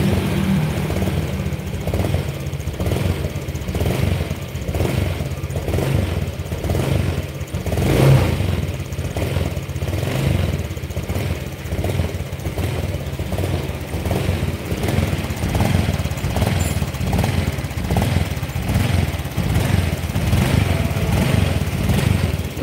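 A cold Honda Vario scooter engine revs continuously, a rough, pulsing drone with clattery, mower-like sputter that stays loud and close throughout without talk.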